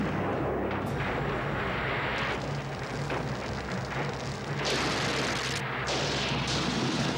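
Ship cannons firing in a naval battle, heard as dense overlapping booms and rumbling blasts that stay loud throughout with a few sharper cracks, and no voices.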